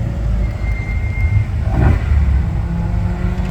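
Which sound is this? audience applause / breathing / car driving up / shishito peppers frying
car driving up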